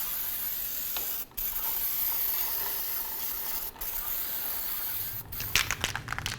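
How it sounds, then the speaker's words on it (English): Parts cleaner sprays from an aerosol can onto a rear brake hub of a 2007–2012 Nissan Altima, a long continuous close hiss with a few brief breaks, then a short burst of stuttering sprays at the end, no voices. "Let's use some parts cleaner, clean up this area"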